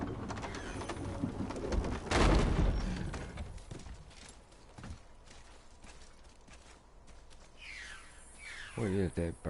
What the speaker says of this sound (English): What is that bird?